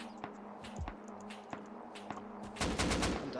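Automatic AK rifle fire in the Rust video game, scattered single shots over a low humming background, then a loud rapid burst near the end.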